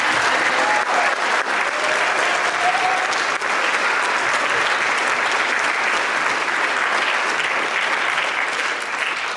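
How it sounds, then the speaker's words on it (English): A school symphonic band's audience applauds at a high school winter band concert, dense sustained clapping from a large crowd filling the hall steadily for several seconds, loud and even throughout. "how about another round of applause for our Symphonic Band?"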